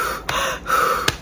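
A voice imitates someone gasping for air after nearly drowning, with sharp, close breathy intakes repeated about three times in quick succession, no words spoken.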